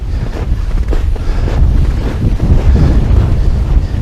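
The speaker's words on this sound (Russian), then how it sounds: "Сильный ветер." Strong wind gusts buffet the microphone out on a lake during a fishing trip, a loud, rumbling roar with surging pulses and a faint wash of water, with no voices.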